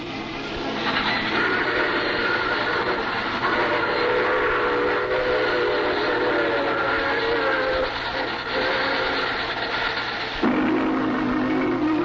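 A train rumbles steadily along with a sustained whistle tone sounding over the rolling noise, close and fairly loud.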